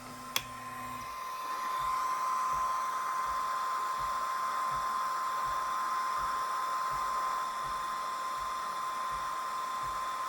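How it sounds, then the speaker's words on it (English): Blue laser engraver making one pass over an anodized aluminum screwdriver, a steady high whine with a fan-like hiss that holds evenly for about ten seconds after a short click at the start. "with same settings, we engrave in screwdriver."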